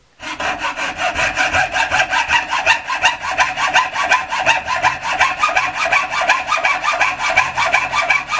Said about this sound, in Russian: у данного ключа пилим вдоль обе части